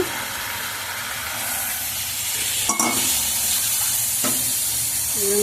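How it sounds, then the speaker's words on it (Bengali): Water splashed into a hot pan of cooking lilua greens sets off a steady loud sizzle and steam hiss, with a sharp burst partway through as the water hits, continuing as a broad frying roar with no talk. "আমি এবার একটু জল দিয়ে দেবো সামান্য"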